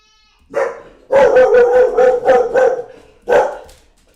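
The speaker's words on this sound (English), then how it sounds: "the dog feels the need to bark at everything" A dog barking indoors at home, a single bark, then a rapid run of about six barks, a pause and one final bark, loud and close.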